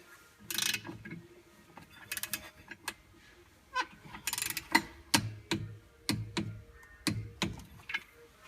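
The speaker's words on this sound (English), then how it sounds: "And this bolt will be torqued to 17 foot-pounds." A clutch bolt on a Polaris Ranger with a Yanmar diesel is tightened with a ratcheting wrench, giving close clusters of clicking ratchet strokes and light metallic taps, intermittent and moderately loud, with no speech.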